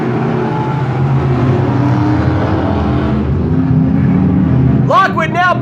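Race cars circle the banked oval at Sunset Speedway in Oregon just after the green flag, a loud, continuous engine roar up close with a brief rising whine near the end, and a commentator talks over it.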